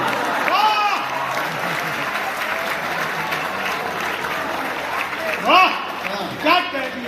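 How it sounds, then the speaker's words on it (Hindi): Audience applause at a Basantotsav 2025 stage event, a steady wash of clapping from a crowd, with voices rising briefly over it near the end. "आप लोगों को तालियां बजानी ही होगी"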